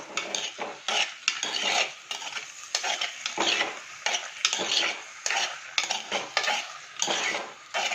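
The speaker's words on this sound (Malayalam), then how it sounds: "അല്ലെങ്കിൽ കൊഞ്ച്, അതിനെ ഇതിലോട്ട് ഇട്ട് കൊടുക്കാൻ പോവുകയാണ്. അതൊക്കെ ഒന്ന് ഇളക്കി കൊടുക്കാം." Prawns being stirred in a pan for Kerala prawn theeyal, with a spoon scraping and clattering against the pan in steady repeated strokes over a soft sizzle, close and fairly loud with no talking.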